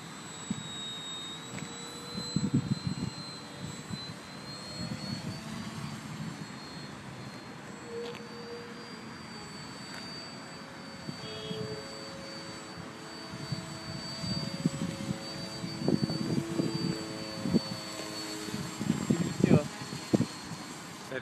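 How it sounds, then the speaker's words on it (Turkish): An F-16 jet fighter engine whines and roars steadily at moderate distance, with a high thin tone on top and people talking over it. "Hover yapmadan şöyle helikopter gibi değil normal uçak gibi jet gibi"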